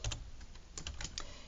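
Soft keyboard clicks as someone types a chart title on a computer, a handful of quick, light taps in an otherwise quiet room.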